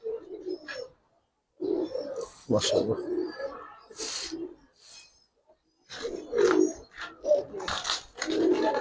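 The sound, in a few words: Giribaz pigeons cooing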